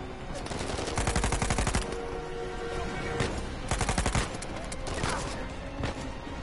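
Gunfire in Uncharted 4, loud rapid bursts of automatic fire in several volleys close together, with someone speaking over parts of the shooting.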